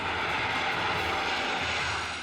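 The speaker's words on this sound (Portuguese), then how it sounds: "embarcamos no Hércules C-130, uma aeronave da Força Aérea Brasileira." Steady, loud engine drone inside a Brazilian Air Force Hercules C-130 in flight, a dense broadband roar that holds evenly throughout with no voices.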